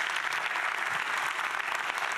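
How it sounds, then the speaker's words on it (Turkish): A summit audience gives brief, dense applause, continuous clapping from a crowd at close range with no talk over it. "Brand Week'in içinde spora böyle bir şans verdikleri için küçük de bir alkış rica ediyorum sizden"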